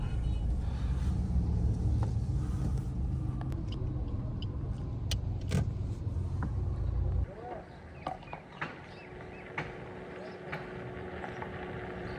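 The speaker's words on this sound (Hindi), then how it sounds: "तो यहीं पर घुमाते हैं गाड़ी को।" A car turns around on a road with a loud engine rumble that cuts off partway through, followed by quieter knocks and surrounding street noise. People talk throughout.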